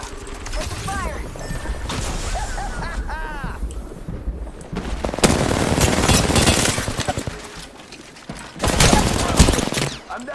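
Rapid bursts of automatic gunfire ring out in an Apex Legends match, loud and close, with a voice talking in between and over the shots.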